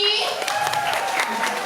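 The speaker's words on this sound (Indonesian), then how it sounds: "Ini tepuk tangan buat Ebi." Audience clapping at a temple gathering at Pura Dalem Jati Penarungan, a brief burst of steady hand claps that comes in over a lingering tonal backing sound and then continues on its own.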